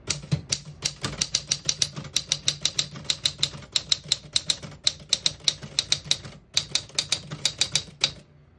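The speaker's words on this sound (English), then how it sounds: "That classic typewriter sound that a lot of people really love." Rapid clacking keystrokes of a 1965 Smith-Corona Sterling manual portable typewriter, crisp and close, typed in quick irregular bursts with brief pauses between runs.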